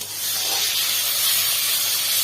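Water poured into frying masala of onion and chopped tomato in a pan gives a loud, steady hiss of sizzle and steam close by, continuous throughout with no talking.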